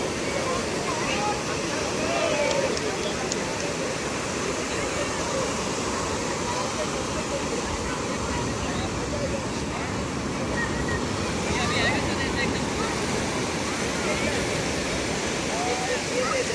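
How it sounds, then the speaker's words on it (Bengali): Sea waves wash onto Radhanagar Beach at Havelock at sunset as a continuous surf roar, with gusts of wind across the microphone and occasional louder swells. "ঢেউয়ের আওয়াজটা জাস্ট শোনো।"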